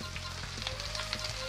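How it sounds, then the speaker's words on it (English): Food sizzles steadily in a pan in the Epic Chef cooking game, a soft continuous frying hiss with faint stirring clicks, heard alone and quietly. "We let those simmer for just a moment."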